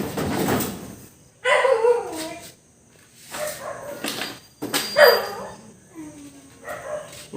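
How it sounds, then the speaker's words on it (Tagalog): Several pet dogs bark noisily in short repeated volleys at moderate distance, indoors near a TV repair bench, with pauses between bursts and a voice speaking in between. "Maingay yung alaga raming aso."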